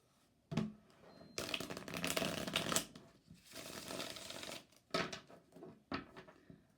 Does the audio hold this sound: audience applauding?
no